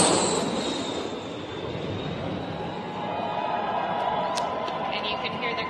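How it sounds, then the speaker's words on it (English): A Boeing 777X airliner on its very first landing, heard as a broad roaring rush of jet noise that fades slightly then holds steady, with faint thin tones and distant crowd sounds. "let's just watch that airplane land. Very first landing of the 777X."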